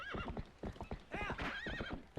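Horse hooves clip-clop in quick rhythm in Zelda: Twilight Princess, mixed with a horse's neighs and whinnies, loud and close with no talking.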